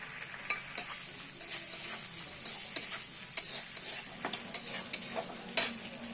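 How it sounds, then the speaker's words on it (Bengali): Garam masala and bay leaves tempering in hot oil, crackling sizzles and sharp pops over a low hiss, with scraping stirs and clinks of a spoon against the pan at an uneven rhythm. "এখানে এই তেলটা গরম হয়ে গেছে, এখানে আমরা গরম মশলা আর তেজপাতার ফোড়ন দিলাম।"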